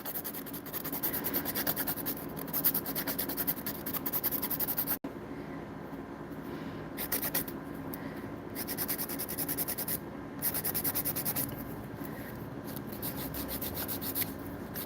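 Acrylic nails being filed, a steady close rasping scrape that continues without a break, with a short pause and then brighter bursts of filing strokes.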